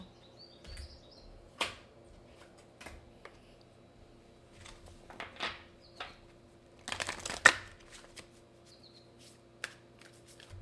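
Oracle cards are shuffled by hand in a quiet room, soft papery flicks and riffles in scattered bursts with a denser flurry near the end, faint and close with no voice.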